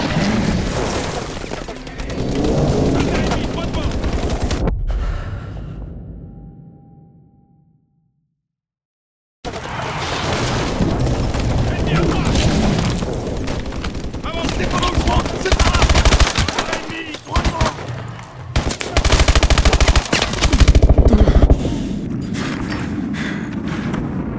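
Dense, loud gunfire from the Call of Duty Advanced Warfare campaign: rapid automatic bursts and heavy booms fill the mix, broken by a few seconds of near silence before the firefight resumes at full intensity.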